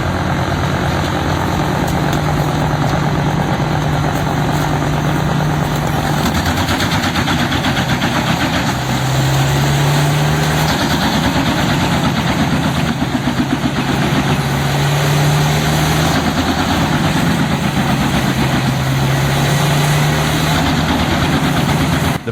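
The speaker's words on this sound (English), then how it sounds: "the engine's roar blending with the crunching sound of wood being shredded" A Petzolato PTH 1400/1000 wood chipper powered by a Caterpillar C2 engine runs steadily and loudly throughout, a continuous mechanical drone with a slight rising and falling pitch and no talk over it.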